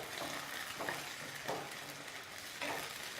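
Tomatoes hit a hot pan of fragrant spices for a spicy sausage bean stew, giving a soft, steady sizzle and frying hiss with a few faint stirring scrapes, heard quietly and alone.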